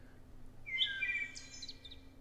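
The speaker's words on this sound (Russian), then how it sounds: "Птички." Birds chirping in the mobile game Guardian Tales, a short cluster of bright tweets and trills, faint and clear over a low quiet background hum.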